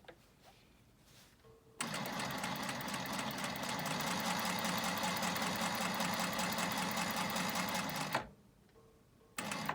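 A sewing machine stitching a quilt block runs in one steady, fast, even burst for about six seconds, close and clear, with quiet handling noise before and after.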